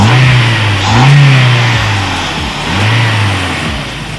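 Car engine revving while its throttle body is cleaned with carbon cleaner during a light tune-up, loud and close, rising and falling in repeated surges over a steady idle.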